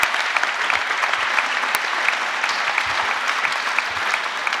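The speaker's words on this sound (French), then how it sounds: "vous pouvez les applaudir maintenant pour leur participation" Audience applause at an award ceremony, a steady dense wash of clapping from a crowd, even and sustained throughout.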